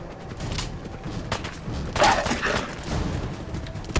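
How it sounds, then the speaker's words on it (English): Gunfire in Fallout 4 amid dense game noise, a few sharp shots and thuds standing out over a busy, steady background of combat sound. "I shot her"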